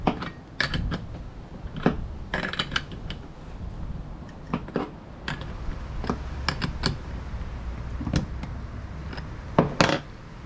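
Metal clicks and small mechanical knocks from a nut being tightened onto a six-wire string trimmer head, in scattered sharp taps with short pauses over a low background hum, close up and without speech.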